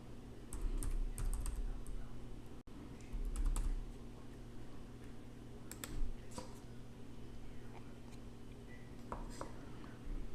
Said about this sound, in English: I'm just typing this thing.